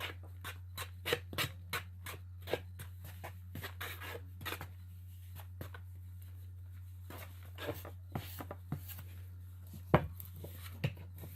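Shaving cream being mixed up for marbling, a series of soft, irregular tapping and scraping strokes close by over a low steady hum, fairly faint, with no talking.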